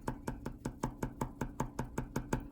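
Loud, evenly spaced taps of a pen point striking paper during stippling, about a dozen sharp clicks in quick steady rhythm, close and alone with no voices.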